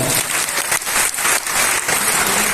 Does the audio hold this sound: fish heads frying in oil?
no